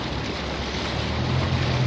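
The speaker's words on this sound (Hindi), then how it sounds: "पानी बहुत रफ्तार में आ रहा है" Fast, turbulent floodwater rushes through a flooded road area in Kullu Manali, a steady broad roar of churning water that swells slightly louder toward the end, with no talk over it.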